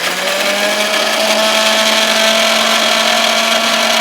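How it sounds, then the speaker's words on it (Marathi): A mixer grinder runs loud and steady, grinding dried mango seed kernel into powder, its motor whine holding an even, unbroken pitch throughout. "तर चला लावून घेऊ आता मिक्सर आपण"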